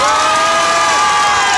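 At an Art to Play 2015 conference, a large audience cheers and shouts loudly and continuously to vote in a Just Dance contest, with a dense wash of voices that fills the whole moment.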